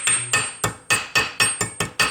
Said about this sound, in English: Notice I'm following the angle with the hammer and then follow it up.